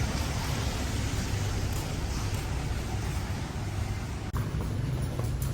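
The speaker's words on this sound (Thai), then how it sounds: "กำลังจะออกเดินทางฝนยุตกเลยเนาะ" Steady, dense hiss of rain falling, constant and fairly loud throughout with no voices.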